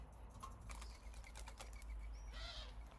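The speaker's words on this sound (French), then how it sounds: "il y a les pigeons, hein, qui sont en train de se battre." Pigeons fighting overhead, with quick bursts of wing flapping and a short call near the end, fairly faint against a quiet room background.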